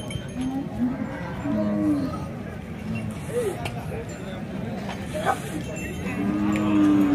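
Bulls at a weekly cattle market in Punganur, with several moos and lowing calls at moderate distance over a busy murmur of crowd noise and voices, and a clank or two in the background.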